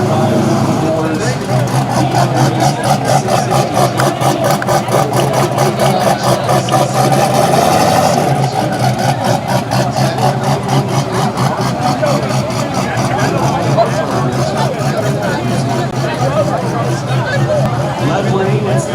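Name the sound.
6.0 turbo LS drag car engine idling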